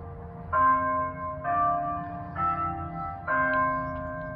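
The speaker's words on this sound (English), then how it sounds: "Oh look, I hear the bells." Church steeple bells in Martinsville, Virginia strike four resonant, evenly spaced tolls, each ringing on with a sustained hum, heard at a moderate distance outdoors.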